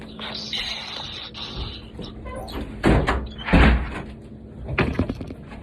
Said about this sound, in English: Let me close this door, Dig, so I make sure I got this audio right.